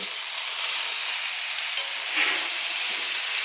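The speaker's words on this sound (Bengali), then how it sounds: "তেলের মধ্যে পেঁপে আলু আমি একসঙ্গে কষিয়ে নেব" Papaya and potato pieces fry in hot oil with a constant, dense sizzle heard up close and with no talking.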